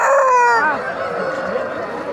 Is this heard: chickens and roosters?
yes